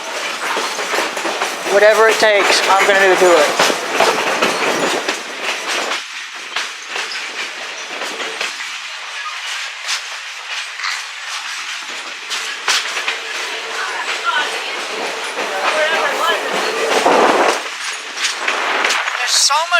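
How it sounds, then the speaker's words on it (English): An excursion train on the GSMR railroad rumbles past with loud clattering wheels and rolling rail noise that swells and fades, while someone speaks briefly over it. "I'm gonna film this train until my battery on my camera dies"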